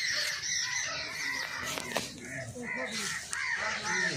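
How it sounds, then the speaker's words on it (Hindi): Birds in a village garden call throughout, with crow-like caws and other bird calls repeating over a soft outdoor background at moderate distance. "चहचहाट की कितनी खूबसूरत आवाज़ें आ रही हैं परिंदों की।"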